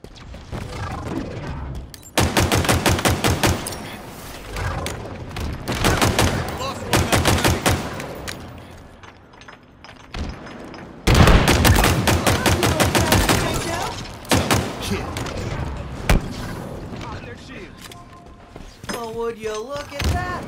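Gunfire in the Halo Infinite video game: bursts of rapid automatic shots with loud impacts, broken by brief pauses, running under game sounds throughout.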